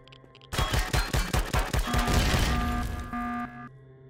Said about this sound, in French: Faut que je le pète avec mon flingue.